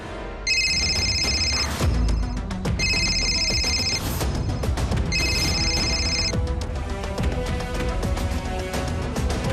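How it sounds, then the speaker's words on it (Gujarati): A telephone rings in three repeated bursts of electronic trilling over steady background music in a Gujarati television drama scene. "Swati please pick up the phone."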